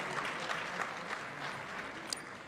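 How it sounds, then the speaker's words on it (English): Soft, fairly distant applause at a dinner for a choir, steady and low in level with a few sharper claps over about two seconds. "Another round of applause for Gaborone Philharmonic Voices."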